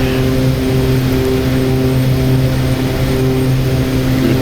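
An OV-10 Bronco climbs out after takeoff in the DCS flight simulator, its twin turboprop engines giving a loud, steady droning roar with strong propeller tones and no pauses.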